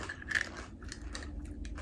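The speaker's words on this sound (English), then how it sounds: "The crunch isn't bad, I just wasn't expecting it." A bite into crunchy white chocolate candy with a crisp sugar shell gives a few close, brittle crunches, then softer chewing noises.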